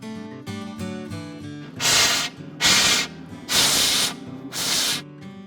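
Air is blown through a copper pipe to clean out a pizza oven, giving four loud hissing bursts with short gaps between them, heard over a steady mechanical background.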